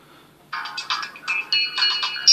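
Standard ringtone melody of a FLY DS106 dual-SIM mobile phone: a short series of bright electronic beeping notes in quick rhythmic bursts, played alone and fairly loud over quiet room noise.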